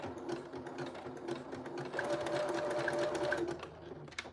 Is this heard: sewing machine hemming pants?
yes